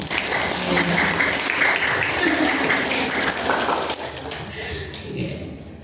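A school farewell crowd applauds the principal, Pak Adi, at an elementary graduation ceremony, a broad, continuous wash of clapping that thins toward the end, with voices mixed in.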